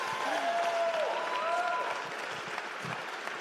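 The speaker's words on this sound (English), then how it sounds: "Round of applause for Alyssa" Audience applause at a PowerPoint karaoke event, steady clapping with a voice whooping over it early on, then tapering to scattered claps.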